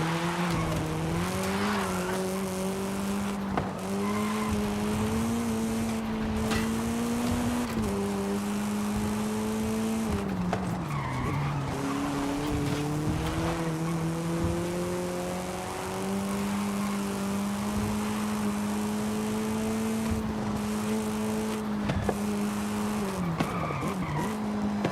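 Car tires skid and squeal as the engine drones and shifts while braking off-road in Forza Horizon 5, a continuous loud sliding hiss rising and falling with revs over about twenty-five seconds.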